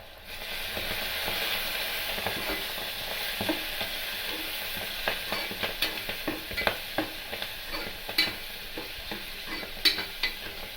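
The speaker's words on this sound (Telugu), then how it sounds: "నూనె వేడెక్కాక ఉల్లిగడ్డ ముక్కలు వేసి ఆ వెంటనే మెంతికూర, పసుపు, దంచిన అల్లం ఎల్లిగడ్డ పేస్ట్ వేసి గట్టిగా గరిటెతో ఇట్లా కలపాలి" Onions, fenugreek leaves, turmeric and crushed ginger-garlic paste fry in hot oil while a ladle stirs them hard; a steady sizzle runs throughout, with sharp ladle clicks growing more frequent in the second half.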